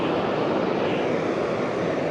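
Snowbirds aircraft roar down the runway on takeoff, a loud, steady broadband engine rush close by with no letup across the moment.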